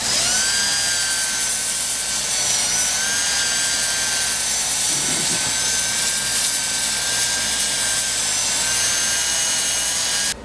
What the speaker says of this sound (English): I'm gonna continue with a little bit more wet sanding on this